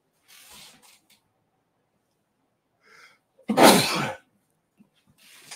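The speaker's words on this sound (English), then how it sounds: "I'll just sneeze." A single loud, close sneeze bursts out alone after a quiet stretch, framed by faint breaths and small rustles before and after.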